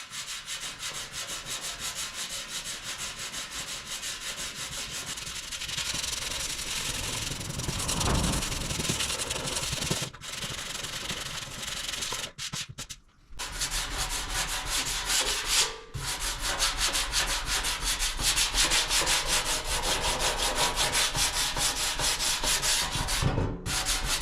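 A damaged car fender panel is block sanded by hand, long continuous abrasive rubbing strokes that swell and ease in rhythm with brief pauses between passes, close and steady with no voices.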